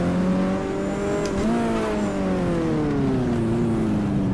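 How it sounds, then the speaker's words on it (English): A race car launches onto its warm-up lap in the GTR2 racing game at Fuji Speedway, the loud, close engine drone climbing steadily in pitch as it accelerates, with no voices. "I let them go and I launch for the first warming up lap time"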